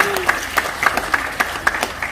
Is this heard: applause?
yes